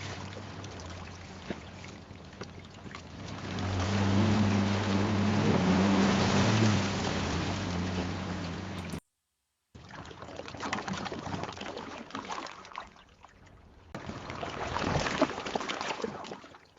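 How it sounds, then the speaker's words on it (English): AI-generated rushing, splashing water swells loudly as a car ploughs through it, drops out briefly, then returns with more churning water that builds again. "there's a water sound which is closer, and then the car actually drive in the water"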